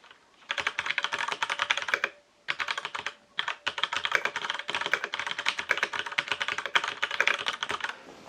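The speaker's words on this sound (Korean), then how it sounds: "이 청축보다는 조금 소음이 적은 제품이 바로 이 갈색축 제품인데요." Steady, brisk typing on a Majestouch mechanical keyboard with brown switches: dense rattling keystrokes in bursts with short pauses between runs, close and fairly quiet, no voices over it.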